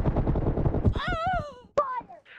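Gunfire in the battle royale game BGMI, a dense rattling burst up front followed by a sharp crack, with whooshing tonal game effects sweeping over it.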